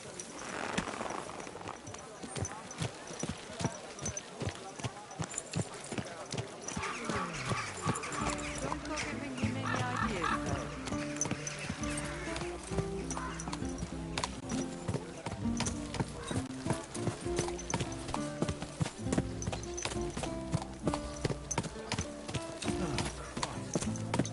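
Horse hooves clip-clop steadily through a medieval open-world game, Kingdom Come Deliverance 2, layered with music, a dog barking and occasional voices talking over the rhythmic footfalls.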